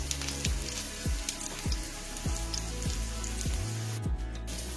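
A sweet potato cutlet fries in a pan with a steady crackling sizzle, and nearby tapping and clicking sounds repeat at regular intervals over the hiss.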